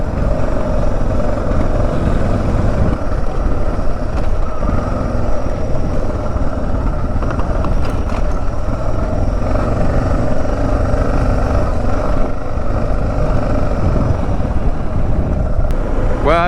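A motorcycle rides along a single trail, its engine droning loud, close and continuous throughout, with no talking over it.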